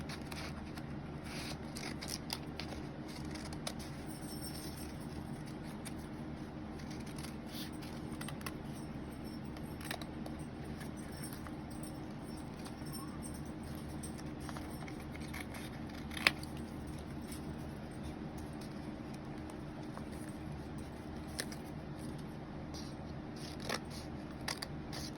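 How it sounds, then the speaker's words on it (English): Scissors snip through folded paper in a long run of quiet, rapid little cuts over a low steady room hum, close up and faint, with one sharper click partway through. "Do a quick cut out."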